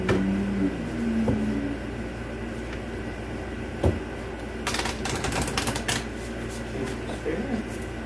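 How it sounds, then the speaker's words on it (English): Oracle cards shuffled by hand, heard as soft papery riffles and brushing bursts, mostly in the second half, with faint talk and a steady background hum. "One more shuffle."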